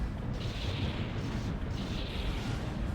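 Squire turrets fire in a combat video game, muffled booming bursts repeating at a loose rhythm over a constant rumbling background, moderately quiet.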